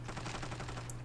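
Weapon tap firing in the mobile shooter Standoff 2: a rapid, even string of gunshots, fairly faint and steady, over a low constant hum.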